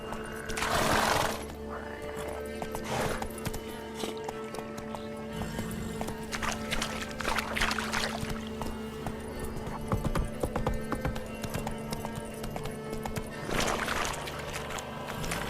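Roach, the horse in The Witcher 3, runs with steady clip-clopping hoofbeats over layered game music and ambience, with a few louder bursts of noise along the way.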